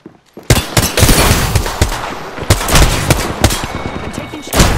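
Loud, close gunfire in a shooter video game: a sudden burst after a brief quiet start, then sustained rapid shots with sharp individual cracks over a dense din.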